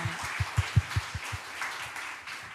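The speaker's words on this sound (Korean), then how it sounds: "교회에 가면 박수 합시다" A small group of children at a church cell meeting clap in a short burst of about seven distinct claps, fairly close and moderate in volume, fading into softer scattered sounds.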